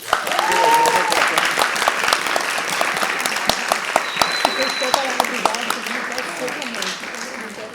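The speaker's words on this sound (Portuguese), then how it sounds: "A gente uma salva de palmas, gente." Audience applause at the opening debate session of a film screening, with a crowd clapping steadily and loudly for several seconds, individual sharp claps standing out and scattered voices mixed in underneath.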